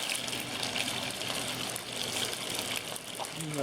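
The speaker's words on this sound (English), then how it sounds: "I'm gonna dump my rice in." Rice dumped into a pot of boiling water on a cast iron wood stove gives a rushing, gushing splash over the steady bubbling of the water, close and fairly loud.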